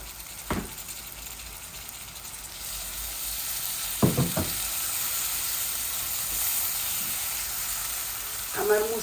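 Spices and a tomato fry in a hot pan for a chicken and egg bhuna, giving a steady loud sizzle and hiss with a few sharper stirring clatters.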